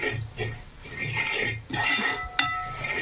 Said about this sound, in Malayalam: മൂത്ത് വന്ന ഉള്ളിയിലേക്ക് ഇത് നമുക്ക് നന്നായിട്ട് മിക്സ് ചെയ്ത് കൊടുക്കാം കേട്ടോ